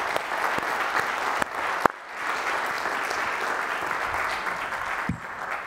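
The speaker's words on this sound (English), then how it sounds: "give a round of applause and thank you" An audience at a keynote conference session applauds the event sponsors: steady, dense clapping fills the room for several seconds, with a sharp louder clap near the middle and a brief dip before the applause resumes.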